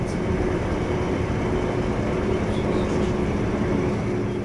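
Continuous rumble and rolling hum of a regional train running on the main line between Kiel and Husum in Schleswig-Holstein, steady and moderately loud throughout with no distinct breaks.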